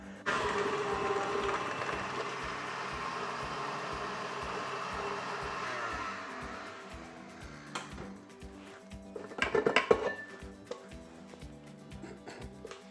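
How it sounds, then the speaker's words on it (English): An electric mixer whirs steadily while creaming butter and caster sugar for shortbread, a close continuous motor hum that fades after several seconds, followed by a few clattering knocks. "I'm going to take the caster sugar and the butter and I'm going to put that into the mixer"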